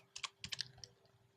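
Short burst of typing code on a computer keyboard, a quick cluster of close, crisp key clicks followed by a few sparse taps, fairly quiet overall.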